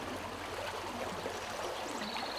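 Creek water running through a California canyon gives a soft, steady rushing flow with faint trickling, quiet and even throughout, with no voices.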